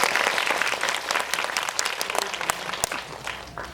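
An audience in the Megabox COEX MX cinema hall applauds at a film talk event, a dense, sustained burst of many hands clapping close by and at a steady loudness, with no voices over it.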